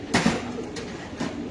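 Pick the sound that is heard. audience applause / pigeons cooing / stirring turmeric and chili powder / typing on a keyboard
pigeons cooing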